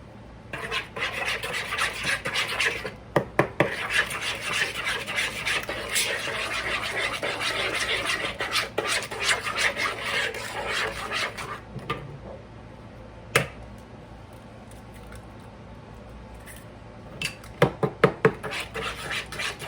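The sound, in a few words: mixing eggs into gingerbread cake batter in a bowl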